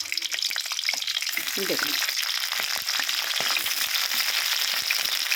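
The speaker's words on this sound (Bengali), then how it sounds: "আগে কপিটা ভালো করে আমি ভেজে নিচ্ছি" Cauliflower florets fry in hot oil for a curry, a steady dense sizzle and crackle with occasional stirring clatter and a brief voice over it.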